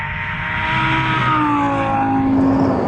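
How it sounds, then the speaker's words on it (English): A 2013 Lamborghini Gallardo's V10 engine accelerates hard on a track, its loud, rising roar climbing steadily in pitch as it draws close. "The V10 engine makes an amazing noise."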